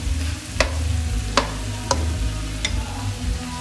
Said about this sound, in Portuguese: Daí você coloca um pouquinho de água quente para sair aquele saborzinho que fica em volta da panela no frango.